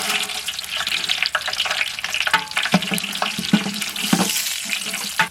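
Whole cloves, cardamom, cinnamon and bay leaves frying in hot ghee for a village chicken polao, a steady bright sizzle with scattered crackles and pops throughout.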